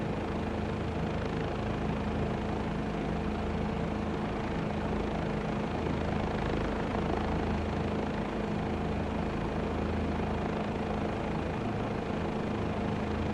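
A helicopter in Microsoft Flight Simulator 2024 on a sightseeing tour over Providence holds a steady, loud rotor and turbine drone with no break, and no one speaks over it.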